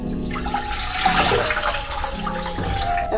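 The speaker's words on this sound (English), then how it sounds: "So I have 4 cups of water in this pan" Tap water pours steadily into a measuring cup in a home kitchen, a continuous splashing gush at close range with no voices.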